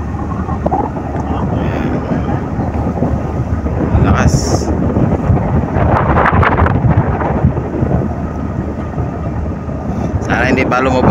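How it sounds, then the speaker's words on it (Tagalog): Strong wind at sea during a typhoon roars into the microphone with heavy rumbling buffeting, steady throughout, while a voice talks faintly underneath. "Ang lakas ng hangin, mga idol."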